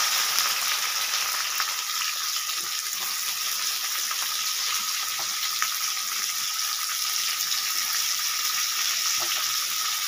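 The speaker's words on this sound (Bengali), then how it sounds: "পেঁয়াজটা একটু লাল লাল করে ভেজে নেব" Onion fries in oil in a pan with bay leaf, cumin and whole spices, a loud, dense, continuous sizzle close up with faint stirring scrapes and no voices.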